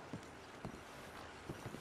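Horse hooves in the Red Dead Redemption 2 video game, a few faint clip-clop hoofbeats spaced unevenly over a constant low background hum, with no talking.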